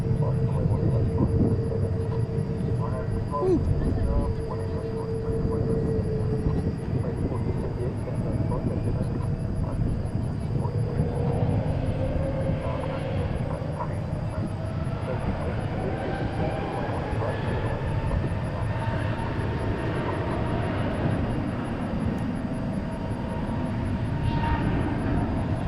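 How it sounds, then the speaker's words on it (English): Frontier Airbus A320neo jet taking off at DFW International Airport, a steady low engine roar rising and sustained throughout, moderately distant, with a person talking over it in places. "Frontier there is taking off to San Francisco on an A320 Neo"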